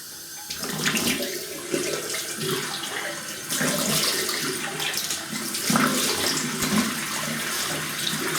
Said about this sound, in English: fill my hands up and just rinse it. Rinse my whole face with cold water